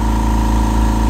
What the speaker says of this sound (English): the compressor goes off